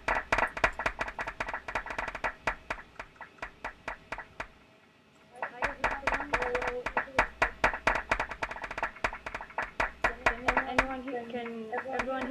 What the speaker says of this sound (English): Round of applause for Christopher.